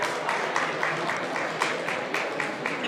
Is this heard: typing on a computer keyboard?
no